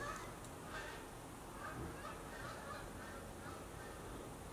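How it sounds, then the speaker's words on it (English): Geese honk several times in the distance, their calls scattered and faint over a steady outdoor background hiss. "geese outside going overhead"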